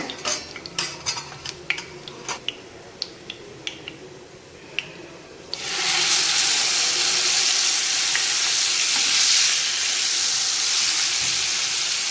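A whole fish drops into hot oil: light metallic clinks of utensils against a pan come first, then a loud, broad sizzle bursts in and holds steady to the end, with no talking.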